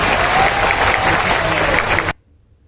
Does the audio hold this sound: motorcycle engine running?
no